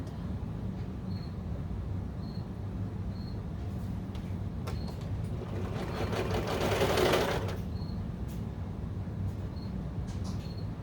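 A serger overlocker stitching down the short end of a baby bummies waistband folded right sides together, a steady fast mechanical whir that swells louder near the middle and then settles, with no voices.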